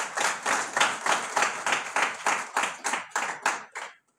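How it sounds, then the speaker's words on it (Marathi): A small audience gives a short burst of rhythmic clapping, about a dozen even, pulsing beats that slow and thin out before stopping, with nobody speaking. "आपण त्यांचं टाळ्या वाजवून स्वागत करूया"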